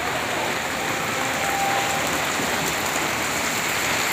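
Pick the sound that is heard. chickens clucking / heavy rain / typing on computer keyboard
heavy rain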